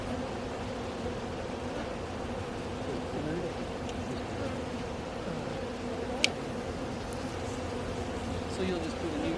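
Honey bees buzz in a steady, dense drone close by during a beehive frame inspection on a bee club field trip, with wind noise and people talking quietly at times.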